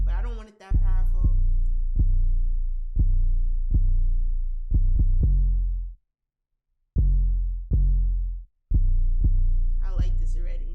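Distorted 808 bass from Logic's stock distortion, boosted around 120 Hz, thumps in a loose pattern of about a dozen deep, sustained booming notes, each with a sharp attack and a long humming tail, broken by brief gaps.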